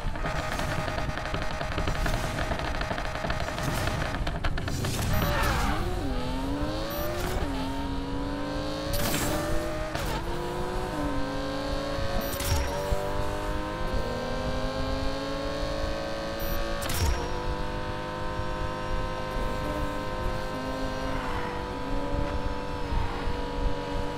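Dense car traffic on a crowded road in Need for Speed Payback, with engines revving and rising in pitch, cars sweeping past one after another and a tire squeal, steady and loud throughout.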